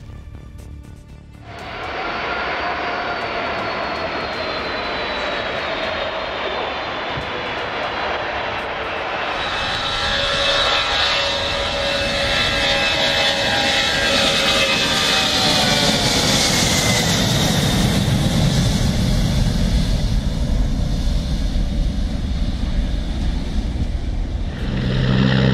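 A fixed-wing aircraft's engines roar steadily throughout its descent toward a city in Belgium. Turbine whine slides in pitch while the rumble grows heavier and closer toward the end, with no voices.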